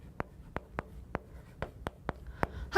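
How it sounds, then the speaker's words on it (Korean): Chalk tapping and scraping on a classroom board in a row of sharp, evenly spaced strokes, moderately close, with a quiet room behind and no talking over it. "쌤이 하나만 더 써볼게요."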